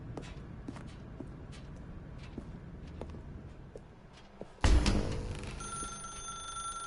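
A telephone rings inside The Stanley Parable video game, a sudden loud burst with a sustained bright ringing tone that follows a stretch of quiet shuffling footsteps.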